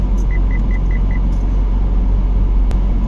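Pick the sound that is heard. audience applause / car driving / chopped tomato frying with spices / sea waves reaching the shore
car driving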